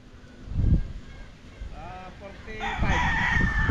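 A rooster crows loudly nearby on a rural farm, a drawn-out wavering call, with other fowl and a voice talking around it and steady outdoor noise underneath.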